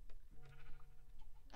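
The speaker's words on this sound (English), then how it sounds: "Oh, I see another sheep." A sheep in the Minecraft video game bleats once, short and fairly faint, with soft background noise around it.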